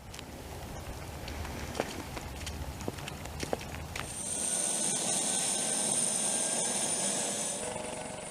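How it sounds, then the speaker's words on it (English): A twin-engined MH-65 Dolphin helicopter hums steadily throughout, with light clattering and thumps early on before a high whine rises and holds as the rotor noise grows fuller and louder, heard from fairly close. "The type of helicopter most commonly used for medevac flights is the MH-65 Dolphin."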